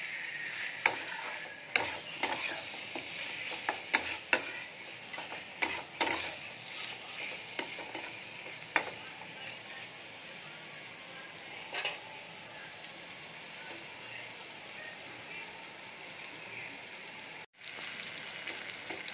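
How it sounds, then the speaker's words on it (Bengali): Capsicum and spice paste frying in oil for chana dalna, stirred in the pan: a close, steady sizzle with irregular scraping and clacking stirring strokes, busy early on and quieter toward the end. "ক্যাপসিকামটা দিয়ে আমি একটু ভালো করে কষিয়ে নেব।"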